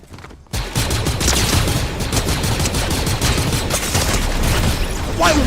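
Video-game gunfire after a short quiet start: dense, rapid automatic shots pour out loudly and without a break until the end.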